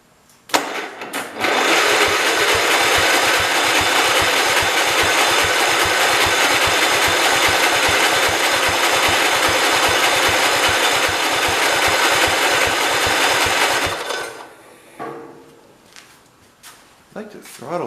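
A 1969 112 patio tractor engine runs loud and close with a fast, even chugging pulse for about twelve seconds, then drops away to quieter rattles and handling noises.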